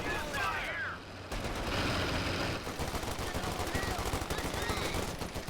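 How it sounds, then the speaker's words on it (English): Cavalry rifles fire in a real-time strategy video game match, a dense stream of rapid gunshot crackle with bursts layered over continuous battle noise, with a caster talking over it. "Cav rifles delivering some more pain."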